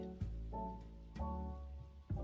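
Rain falls from rain clouds in the video game Disney Dreamlight Valley, a soft, steady patter with a few brief louder splashes, faint and unaccompanied by talk.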